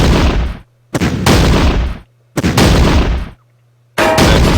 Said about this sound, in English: And still some shootout.